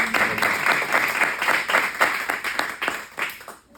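A church congregation bursts into warm applause, a dense run of many hands clapping at mid distance that thins and fades toward the end.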